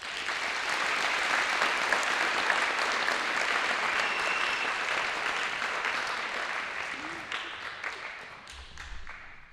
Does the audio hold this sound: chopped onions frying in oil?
no